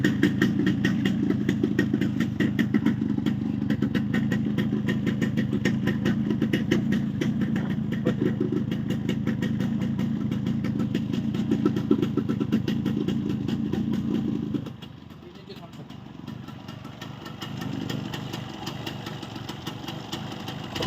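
A repaired Yamaha RX135 two-stroke motorcycle idles with a steady, close, buzzing putter, then dips briefly around the middle before settling back to a lighter, even idle; no talking.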